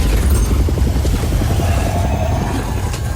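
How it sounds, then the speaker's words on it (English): Wing cannons firing in the Just Cause 4 video game, a dense continuous roar of rapid heavy gunfire with booming low rumble, loud and sustained throughout. "Wing cannons online."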